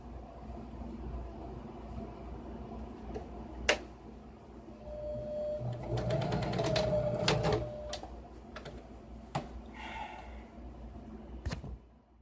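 A sewing machine stitches a homemade wet/dry Swiffer pad, a steady mechanical whir rising for a few seconds in the middle amid scattered clicks and handling knocks, close and moderately loud.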